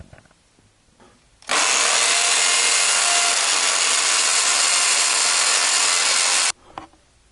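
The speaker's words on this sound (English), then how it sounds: "You need a hammer drill to drill into the concrete." A hammer drill roars loudly and continuously into concrete for about five seconds, close by, then stops abruptly.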